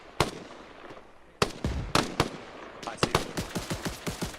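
A tank's machine gun firing in the military video game ArmA, with sharp bursts and single shots that speed into a rapid rattling volley, plus a brief spoken voice.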